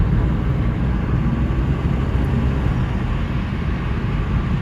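A steady Honda Civic engine drone with road rumble, heard through an open window in the rain, continuous and fairly loud, no talking.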